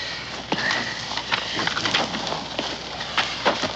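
Horses clip-clopping on the ground in a frontier-set drama scene, a run of irregular hoof thuds at moderate distance, with faint bird calls in the background and no talk.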